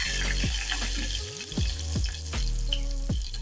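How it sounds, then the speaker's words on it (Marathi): Grated ginger is sautéed in a pan while cooking a mung dal tadka, with a steady sizzle and repeated sharp scraping strokes of the spoon against the pan. "त्यानंतर थोडंसं आलं मी किसून घेणार आहे, तुम्ही ठेचूनही घेऊ शकता. हे छान आपण परतून घेऊयात."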